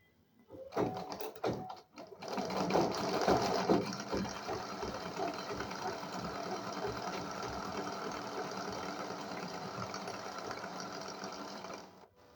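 A sewing machine stitches pico edging onto a saree fall, running in a steady rapid whir for about ten seconds after a few short starting bursts, close and loud.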